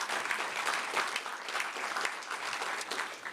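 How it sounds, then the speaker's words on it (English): Audience applause at a Barbados business week event for the organising subcommittee team, steady dense clapping from a sizeable crowd at moderate distance, continuous for a few seconds. "You can give them a round of applause."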